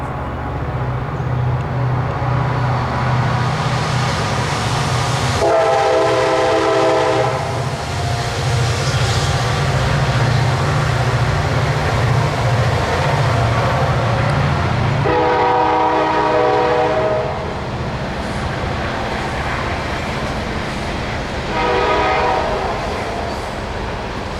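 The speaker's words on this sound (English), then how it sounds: "Here comes the Kansas City Southern Railroad." A Kansas City Southern (CPKC) freight train in Louisiana rumbles steadily past nearby as its horn sounds in several long, loud blasts separated by gaps.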